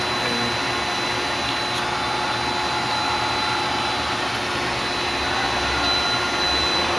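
Steady whirring motor drone of a Tsugami BS-20BII CNC Swiss lathe moving its sub spindle axis, an even, continuous machine hum with a faint high whine held throughout, loud and close.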